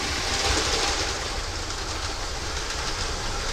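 Trains running nearby, a steady broadband rumble and hiss of rolling stock that fills the whole clip without pause, no speech over it.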